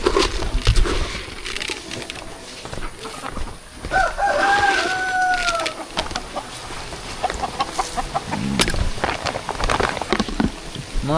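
A rooster crows among pet chickens on a rural farm during rain, one clear drawn-out crow in the middle over steady rain patter and scattered clucks.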